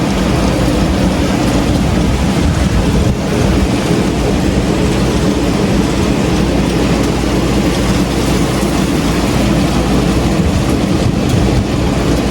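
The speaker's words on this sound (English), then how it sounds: "Look at that wind." Loud, steady roar of strong wind and rain from a severe thunderstorm in New Jersey, heard from a balcony, a dense continuous rush with low rumbling and no talk.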